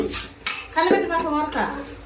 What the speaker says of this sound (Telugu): మా అమ్మ గిన్నెలు కడుగుతూ ఉంటుంది